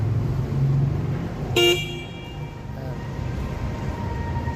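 A single short, bright horn toot from a Yamaha Aerox V1 scooter sounds near its idling engine, followed moments later by a fainter second beep over the steady engine hum.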